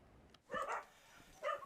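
A dog at an animal protection center in South Jeolla barks in short yips: a quick double bark, a brief pause, then one more, fairly close and clear over a quiet background.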